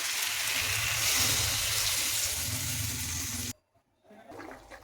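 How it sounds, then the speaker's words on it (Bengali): Water poured into a pan of potato and pointed gourd curry, a steady loud gushing splash that stops abruptly, then a brief softer sizzle. "একটু জল দিয়ে দেবো।"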